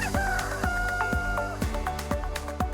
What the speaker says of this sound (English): The rooster's dawn. His cry wasn't loud, it was loyal.